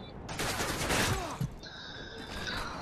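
Rapid bursts of gunfire from an MK gun in a video game's gun game mode, with dense overlapping shots that are loud and close and then taper into lighter firing.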